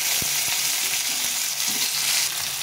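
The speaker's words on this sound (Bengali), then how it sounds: "টমেটোগুলো একটু ভাজা ভাজা হয়ে গেছে, খুব বেশি ভাজবো না।" Tomatoes frying in oil with panch phoron and two bay leaves, a steady close sizzle with a few sharp stirring knocks against the pan.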